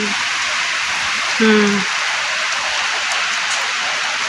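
Heavy rain pours down steadily around a small store, a dense continuous hiss loud throughout, with a brief faint tone partway through.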